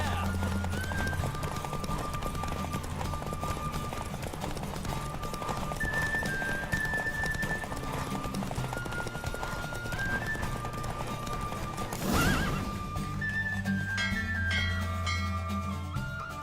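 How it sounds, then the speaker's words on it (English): Rhythmic hoofbeats of a galloping horse in The Witcher 3: Wild Hunt video game run steadily throughout, with a brief whinny and musical tones layered over the busy, continuous sound. "Don't spare the horse!"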